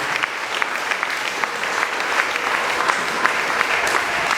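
A church congregation claps for Jesus during a Swahili prayer service, a dense and steady wash of many hands applauding at close range for several seconds, with no talk over it.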